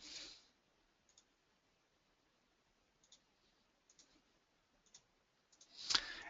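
A computer mouse clicks on grid column headers in a spreadsheet-style interface, with a few soft, sparse clicks spread across a quiet stretch.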